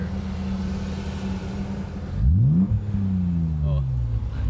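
A car engine at a muscle car meet idles with a steady rumble, then a sharp rev climbs to about 4,000 RPM and falls back, loud and close, over background crowd and traffic noise.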